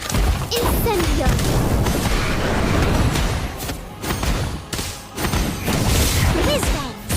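Incendio fire spell cast in Harry Potter: Magic Awakened, a burst of loud crashing booms and whooshes amid dense game effects, with a short dip in the middle before more impacts.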